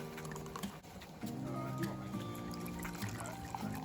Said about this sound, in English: Just pour a drink,